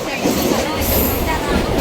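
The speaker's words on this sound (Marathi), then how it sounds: "फास्ट ट्रेन आहे काहीच फास्ट ट्रेन" A fast train roars past near Vasai, its loud rumble and rattling wheels filling the moment at close range with a steady, dense wash of rail noise.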